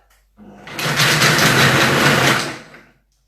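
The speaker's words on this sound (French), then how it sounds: "Donc je vais mixer, hein, ça va faire du bruit." A blender whirs loudly for about two and a half seconds, mixing pear and chocolate sundae ingredients, spinning up quickly, holding steady, then winding down.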